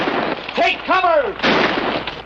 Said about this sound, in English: Who's shooting at him?